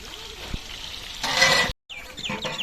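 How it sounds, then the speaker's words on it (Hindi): Onions dropped into hot ghee in a large biryani pot, starting as a quiet hiss and swelling into a loud, bright crackling sizzle, broken by a brief dropout and then tapping clatter. "अभी प्याज ऐड हो रहे हैं जी, घी क्योंकि आवाज़ें दे रहा है कि मेरे अंदर कुछ डालो"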